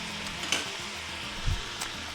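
Meat frying in a pan gives a steady soft sizzle with a few faint pops and a light stirring knock, quiet and close with no talking.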